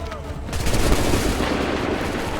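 A musket volley fires in a period battle video game, a dense crackling burst of shots that swells into a sustained roar of gunfire and lingers without a clean break.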